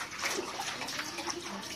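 A baby splashes water in a bath, with continuous close splashes and sloshing at a lively, uneven rhythm.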